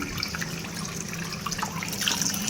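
Kitchen utensils being scrubbed and washed under a running tap, a steady splash of water with light clinks and a brief louder burst at the end.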